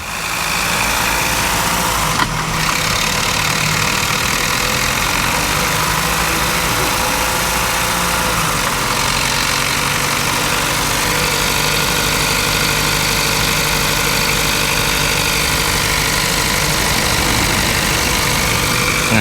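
A Mazda CX-5 diesel engine held at raised rpm, heard close up as a loud, steady, continuous drone with a rough mechanical texture and no talk.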